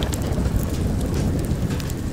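Thunderstorm rain in the post-apocalyptic game Far: Lone Sails, a dense, loud wash of rain with a deep rumbling low end, steady and unbroken throughout.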